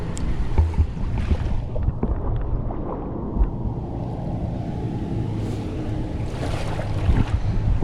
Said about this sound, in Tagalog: Malakas ang alon!